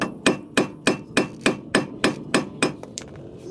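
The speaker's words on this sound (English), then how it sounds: "So I'm going to be hammering it off." A hammer strikes a rusted, rotten brake rotor on a 1998 Toyota Tacoma SR5 4x4 wheel hub, about ten sharp, evenly spaced metallic blows ringing close and loud with no talking.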